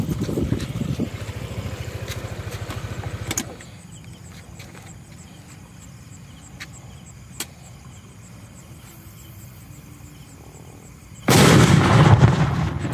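A colorful egg bomb firecracker blasts with a loud, sharp bang, followed by rumbling noise; the opening seconds also hold loud crackling before a quieter stretch.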